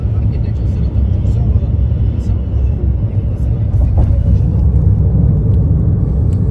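Loud, steady interior road roar of a car speeding at about 120 in an 80 zone, a dense low rumble filling the whole stretch with people talking over it.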